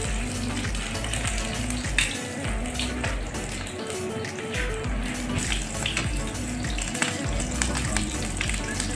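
Smokie sausages fry in a hot pan with about two tablespoons of oil, giving a loud, continuous, dense sizzle and spatter with occasional crackles throughout.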